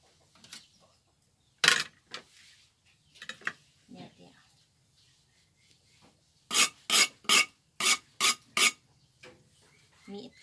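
Shrimp papaya salad is pounded in a mortar with sharp, scraping knocks, a few scattered at first and then a fast cluster of six, close and clear over a quiet room.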